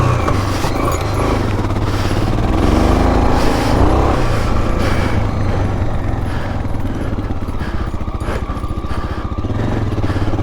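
A 1984 Honda XL600R dual sport motorcycle engine running steadily while riding, a continuous loud single-cylinder drone with wind rumble and slight rises in revs, no talk over it.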